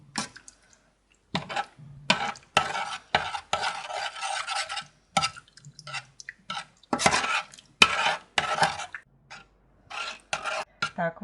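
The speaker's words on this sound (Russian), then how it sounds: "Все размешаю потихонечку." A spoon stirs a thickening gravy of fried onion and flour in a pan, giving scraping, rasping strokes in irregular bursts with short pauses, close and fairly loud.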